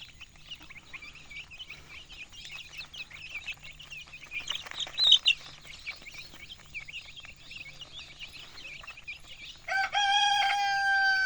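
Free-range desi chickens on a farm cluck and chirp in a busy, moderately near flock, then a rooster lets out a loud, sustained crow at the close.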